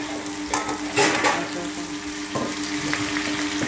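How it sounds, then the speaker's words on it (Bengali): Potato pieces fry in hot oil with onions, giving a steady close sizzle broken by a few louder crackles and bursts of stirring, with no talk. "এবার আমি পেঁয়াজটা অলরেডি ভাজা হয়ে যাবে, আমি আলুটাকে ছড়িয়ে দিলাম"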